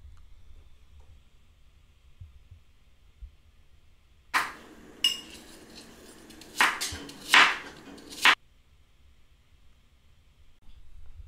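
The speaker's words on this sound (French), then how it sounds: "vous pouvez découper vos morceaux en cubes" Knife cutting apple pieces into cubes on a board, a handful of crisp chopping strikes with faint clinks, sparse and close, surrounded by quiet.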